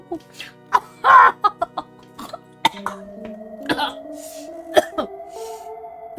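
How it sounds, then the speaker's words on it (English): A single sharp cough bursts out over a voice talking, followed by more speech, with video-game music playing softly underneath during an Earthbound stream. "The cough wasn't intentional."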